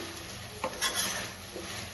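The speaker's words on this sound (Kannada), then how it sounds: "ಆಯಿಲಲ್ಲಿ ಫ್ರೈ ಮಾಡಕ್ಕೆ ಇಟ್ಕೊಂಡಿದ್ದೆ," Chicken fries in hot oil in a pan, a continuous steady sizzle with a couple of soft utensil scrapes, close and even, with no talking.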